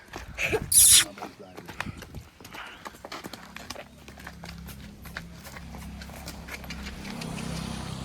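Hooves of a mare clip-clopping as she dances, a sharp loud knock near the start and then softer uneven steps over rising background noise and murmuring voices.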